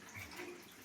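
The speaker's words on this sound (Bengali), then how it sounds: "পেঁয়াজ কালিটা ভালো করে ধুয়ে নেবো" Spring onion greens being rinsed under running water for a winter vegetable curry, a faint, steady wash of splashing lasting under a second, with no voices.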